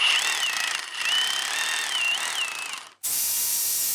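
A Bauer 20v brushless 1 inch SDS rotary hammer drills into concrete, a loud continuous hammering drone with a wavering whine, briefly cutting out before starting again at full power.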